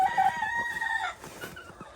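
Backyard chickens cluck close by, with a sharp drawn-out squawk at the start followed by several short, softer clucks at an uneven pace.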